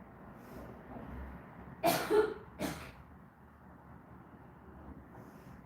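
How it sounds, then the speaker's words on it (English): A couple of sharp coughs in a burst, heard faintly over a low, steady background hum. "I'm gonna have a coughing fit, so I'm gonna leave the room"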